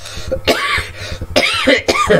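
Several harsh coughs come close to the microphone in short bursts, with throaty, rasping breaths between them.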